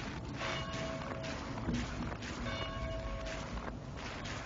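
Church bells ring in the video game DayZ, repeated resonant tolls at a moderate distance carrying over footsteps and ambient game noise, with no talk.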